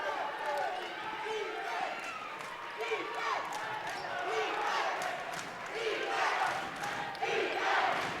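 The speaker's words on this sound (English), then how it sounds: "Crowd going crazy here at South." At a girls' high school basketball game at Cheyenne South, a home crowd roars and cheers in a sustained swell, mixed with sneaker squeaks and ball bounces.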